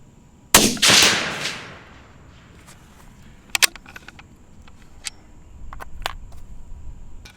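Two loud, close rifle shots from a 6mm Dasher ring out in quick succession outdoors to foul a freshly cleaned barrel. Scattered clicks and handling noises follow.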